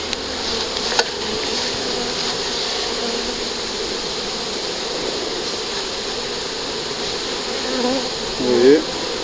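A honeybee swarm fills a Warré hive with a dense, loud, continuous buzz, and a single bee drones close by near the end.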